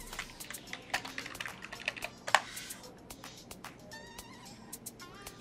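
A password being typed on a computer keyboard, a quick run of light, close key clicks with uneven rhythm over a faint room hum, a few louder taps standing out.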